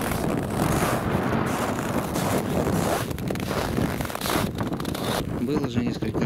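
Strong wind buffets the microphone in a continuous loud roar with sharp gusts, out on the water during winter pike fishing in Russia, with a voice heard briefly.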